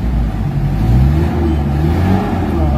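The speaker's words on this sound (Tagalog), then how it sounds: "maririnig mo na yung galit ng makina" A Mitsubishi Adventure engine hums steadily at around 1,000 RPM with low, rumbling revs, close and loud, the pitch rising slightly mid-way without much variation.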